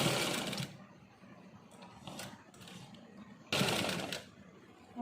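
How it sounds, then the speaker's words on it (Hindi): A sewing machine stitches a shirt in a tailoring boutique, running in short close bursts of rapid whirring with quieter pauses between them, and no talking. "अब इस पे हम स्टिचिंग करते हैं"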